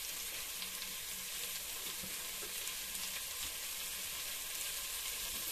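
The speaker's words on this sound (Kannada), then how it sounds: "ಇವಾಗ ಈರುಳ್ಳಿ ಹಾಕ್ತಿದ್ದೀನಿ" Sliced onions frying in a pan for hotel-style chicken biryani, a steady, close hiss of sizzling oil with no pauses and no talking.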